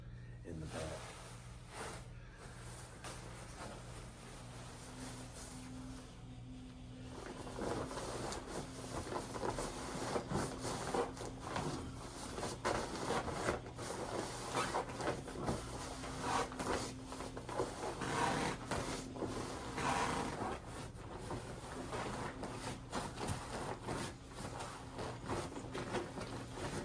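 Rustling and shuffling of fabric as a puffy jacket and puffy vest are stuffed into a backpack for an Appalachian Trail thru-hike, steady nylon swishes and crinkles close up, continuing for a long stretch under a low steady hum.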